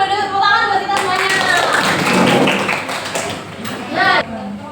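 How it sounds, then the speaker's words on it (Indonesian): Students clapping in a classroom during an English lesson, a brisk round of hand claps that starts abruptly and fades, with a voice speaking over it. "tepuk tangan buat kita semuanya"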